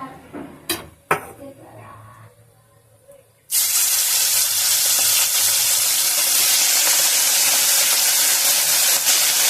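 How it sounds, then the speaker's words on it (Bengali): Gang mourola fish drop into hot oil in a wok after a few clanks of the pan, and a loud, dense sizzle bursts up and roars on without pause, close by. "এবার আমি প্রথমে কড়াই তেল দিয়ে মাছ কটা ভেজে নেব"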